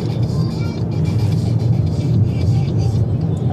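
Volkswagen Golf driving on the Haute Saintonge race circuit, its engine droning steadily and loudly throughout at close range with a rough low rumble.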